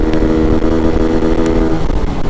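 A Suzuki Raider 150 motorcycle engine idles and revs loudly nearby, a steady rough mechanical drone throughout.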